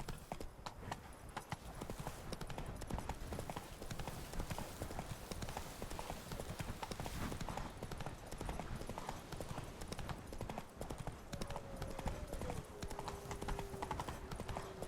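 Horse hooves pound in a quick, continuous riding rhythm in The Witcher 3: Blood and Wine, close and steady throughout, with a faint whinny near the end.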